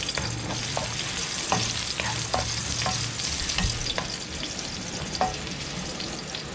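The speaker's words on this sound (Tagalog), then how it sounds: "kapag prito na tayo, tayo naman yung gigisa. Lagyan natin itong luya." Ginger sautéing in a hot pan, a steady close sizzle and fry with scattered sharp crackles and pops from stirring, continuous throughout with no talking.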